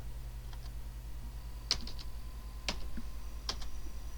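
A computer keyboard being typed on during a Linux Mint installation: a few scattered, sharp keystrokes in small clusters over a steady low electrical hum.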